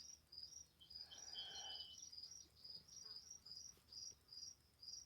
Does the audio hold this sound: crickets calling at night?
yes